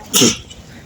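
A single short, sharp sneeze bursts out close by, a loud broadband blast lasting a fraction of a second, then fades into quiet room noise.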